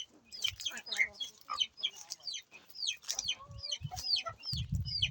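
Farm chickens cluck and chatter close by in quick, overlapping calls. Low thumps and rustling run underneath, growing heavier toward the end.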